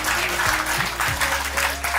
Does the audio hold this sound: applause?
yes